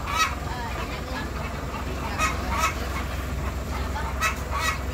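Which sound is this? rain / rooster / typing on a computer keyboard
rooster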